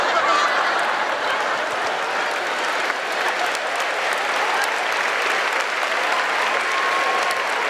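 An audience applauds steadily and loudly throughout, a dense wash of clapping with no speech over it.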